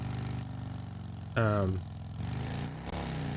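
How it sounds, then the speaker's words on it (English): A steady flat-six boxer engine drones in a driving video game, a continuous mid-pitched hum that briefly surges louder before settling back to its even running note. "I don't know if the sound for the engine on this thing is really quite right"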